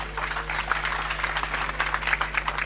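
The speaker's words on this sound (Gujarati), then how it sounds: "તાળીઓ પાડતા રહેજો" Crowd at an outdoor political rally clapping in a sustained burst of applause, a dense patter of many hands over a steady low electrical hum from the sound system.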